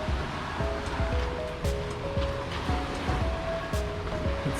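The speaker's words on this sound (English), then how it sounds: "A beautiful beach." Surf washes steadily onto a beach near Boca de Tomatlán on the Puerto Vallarta coast, a close, continuous roar of breaking water with soft repeated low thumps and no talking.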